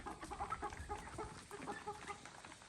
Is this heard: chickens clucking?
yes